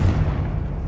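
Confringo blasting spell fired in Hogwarts Legacy: a brief, loud booming burst with heavy low-end rumble that holds briefly and tails off, with no voices.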